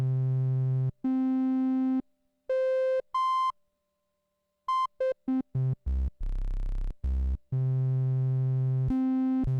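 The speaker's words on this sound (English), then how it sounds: "This is the triangle waveform." A Behringer K2 synthesizer's oscillator 1 playing a triangle waveform as a series of clean, hollow sustained tones, stepping between pitches in separate notes with short gaps, no voice over them.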